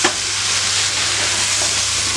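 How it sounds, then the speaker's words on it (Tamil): Steady, loud sizzling of mixed vegetables frying together in a hot pan for a vegetable kootu kuzhambu, a continuous hiss with a faint stir near the start. "எல்லாம் ஒன்றா போட்டு நல்லா வதக்கியாச்சு."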